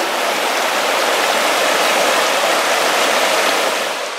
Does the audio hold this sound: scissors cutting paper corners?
no